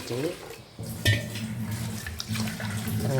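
Ration lentils are rubbed and washed by hand in water in a pot. There is close splashing and sloshing with light knocks against the vessel, continuous for a few seconds.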